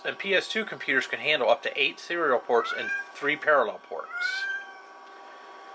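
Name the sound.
cat meowing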